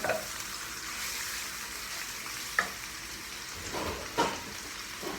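Chicken sizzles steadily in a hot pan, with a few sharp clinks and scrapes of stirring.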